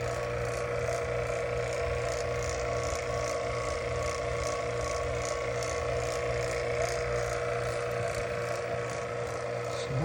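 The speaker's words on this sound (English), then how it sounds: "so now we're pulling the vacuum." A vacuum pump pulls a vacuum on a Mitsubishi hyper heat mini split line set. It gives a constant, loud mechanical drone with a steady fast pulsing rattle, running unchanged throughout.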